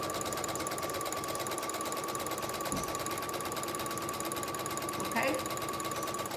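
A sewing machine runs steadily and close up with a fast, even mechanical whir as it stitches a straight line on mask fabric, while a person briefly speaks near the end.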